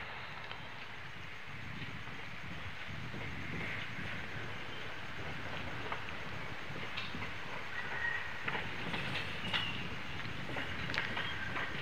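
A train rolls along the rails between Tirunelveli and Tiruchendur, with a continuous rumbling drone and faint rattling, steady and moderately distant, no voices.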